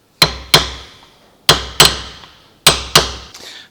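Six sharp metallic hammer strikes on car door sheet metal, hammered through a piece of wood, land in three pairs, each ringing briefly, loud and close with quiet gaps between.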